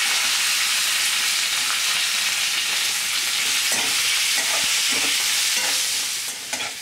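Onion, green chillies, grated ginger and curry leaves fry in a pan for upma with a loud, constant hissing sizzle, close by, broken by a few soft stirring scrapes.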